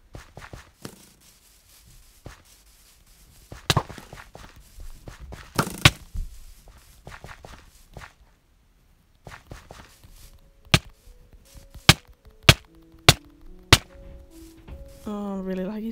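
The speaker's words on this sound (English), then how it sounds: "Oh, somebody's shooting at me." Gunfire in the blocky multiplayer game CubeCraft Free for All: scattered faint clicks and thuds, then a run of sharp, loud shots spaced about a second apart near the end, followed by a rising electronic tone.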